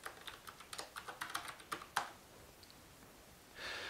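A password is typed on a computer keyboard while setting up a Raspberry Pi: about a dozen quick, light key clicks at close range, ending with a firmer keypress, then near silence.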